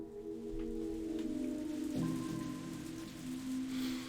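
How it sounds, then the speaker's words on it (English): Heavy rain pours steadily onto a galvanized iron roof, a dense hiss with low sustained tones humming underneath. "It kept pouring down on the galvanized iron roof, producing a loud noise."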